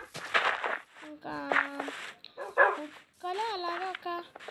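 Dogs in the video game Minecraft bark and whine in several short bursts, close and fairly clear, with brief pauses between them.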